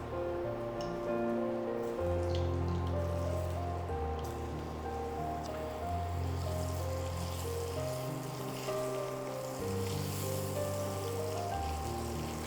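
Eggs fry in oil in a pan over a medium flame for a dhaba-style Indian egg masala, a steady close crackling sizzle running throughout, with low rumbling hum beneath and no talking.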